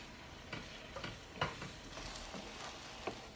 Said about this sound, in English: So, I'm just gonna mix it.